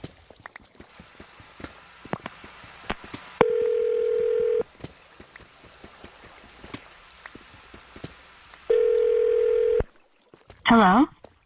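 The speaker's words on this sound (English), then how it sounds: "I'm going to dial the phone number right now" A phone call setup with scattered faint clicks and taps, two long steady tones in the middle, then a short warbling ringback-like burst near the end; quiet background otherwise.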